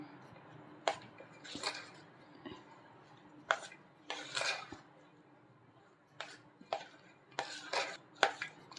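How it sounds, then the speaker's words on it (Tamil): Gram flour and roasted nuts are stirred into sugar syrup for laddu, giving irregular clinks and scrapes of a spoon against a pan in close, uneven bursts over a quiet room. "இப்போ இந்த சக்கரை பாகில் அப்படியே நல்லா கிளறி விட்டுக்கலாம்"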